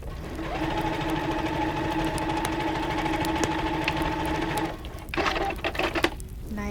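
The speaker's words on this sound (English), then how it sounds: "I am going to top stitch it right along the edge." A sewing machine top-stitches along the edge of shirt fabric with bias tape for a wrap blouse, running at a steady, even whir for about four seconds before stopping, followed by a few clunks.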